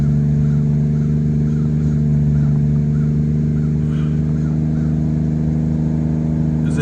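A Lexus IS300 with a 2JZ engine idling slightly high on a cold start, a steady, close, loud hum with a constant even pitch and no revving throughout.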